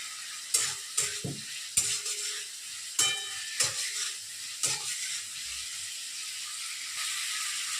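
Chopped green chillies go into a frying spice paste for a vegetarian banana-flower dish, bursting into sharp sizzles and crackles in several loud spurts, then settling into a steady quieter hiss.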